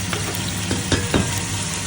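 Onions and tomato sizzle and fry steadily in a pan while being stirred, a loud continuous crackle with a few scraping stir strokes and no talking.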